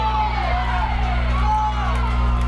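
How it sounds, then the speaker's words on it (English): Crowd at an NPSL playoff soccer match between Erie and Quad-City Eagles lets out a collective groan and moaning murmur, with a steady hum of stadium noise underneath and distant voices. "And a lot of moans in the crowd."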